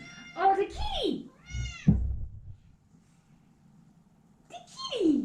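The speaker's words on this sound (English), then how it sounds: "There is a cat." A domestic cat meows several times, with rising and falling calls spread across a few seconds, close and fairly loud, while people talk in between.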